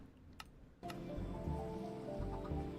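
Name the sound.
rain in the video game Minecraft, modded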